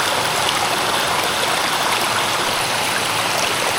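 A waterfall inside a cave in Thailand roars in a loud, steady, continuous rush of falling and splashing water, close by and alone with no talk.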